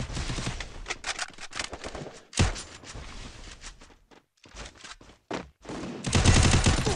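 Desert Eagle shots in a first-person shooter match ring out in a series of loud, sharp bursts with short silent gaps between them, and a heavier blast closes the sequence.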